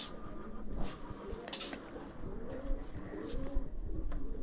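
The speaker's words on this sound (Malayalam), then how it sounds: "കുറേ പ്രാവുകളുണ്ട്." Pet pigeons coo in a loft, low rolling calls repeating over a steady rustling background, fairly close.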